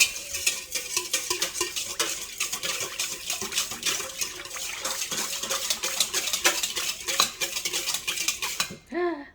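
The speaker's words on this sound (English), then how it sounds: "And then we're gonna mix all of this up." A spoon or whisk clatters briskly and continuously against a mixing bowl as vegan vanilla cake ingredients are stirred together. The rapid, close scraping and clinking goes on with no talk.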